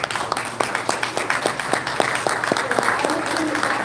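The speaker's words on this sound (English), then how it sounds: "please give him a round of applause" Audience at a sheriff oversight board meeting clapping for an advocate, brisk close applause with distinct individual claps and a murmur of voices underneath.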